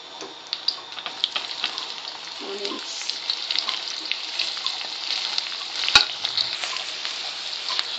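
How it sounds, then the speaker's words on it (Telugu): Sliced onions frying with fennel seeds in oil for a curry, a soft continuous sizzle with scattered pops and light ticks, one sharp clack near the end, no talk. "ఇలా ఆనియన్స్ బాగా కలర్ వచ్చేలాగా వేపుకోవాలన్నమాట"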